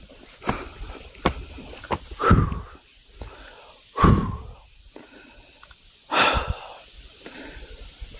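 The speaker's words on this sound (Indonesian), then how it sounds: "Sedikit ngos-ngosan saya." Heavy, labored breathing from a hiker out of breath on a mountain climb, with ragged wheezing gasps coming every couple of seconds close to the microphone, mixed with scuffing footsteps and light knocks.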